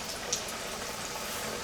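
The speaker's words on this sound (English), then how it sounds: "Listen to the sizzle when you drop it." Pieces of alligator meat hit hot frying oil, producing a loud, continuous crackling sizzle that fills the whole moment, close up and with no talking.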